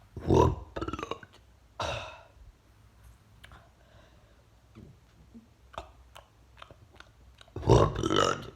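Loud, gurgling burps break out at the start and end, with softer throat clicks and chewing-like noises in between, made while trying to say a phrase mid-burp as part of a challenge.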